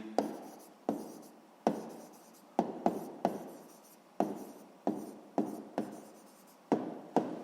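A pen writes in a notebook during a sixth-grade math exercise, making a close, quiet series of brisk scratchy strokes in uneven bursts, each starting sharply and fading, with no one talking.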